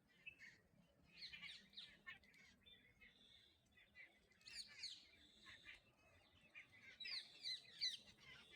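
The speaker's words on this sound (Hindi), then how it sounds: "अब तोते आना शुरू हो रहे हैं।" Parrots arrive and call in trees at a birding area, with bursts of shrill chirps and squawks coming and going over a quiet background, faint and somewhat distant.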